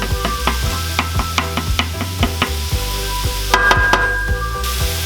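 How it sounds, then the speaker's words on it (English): Onion and garlic sizzle and toast in a hot pan while making pizza, a steady close frying hiss punctuated by repeated sharp stirring and scraping taps, no talking. "So I just want to toast the onion and the garlic a little bit."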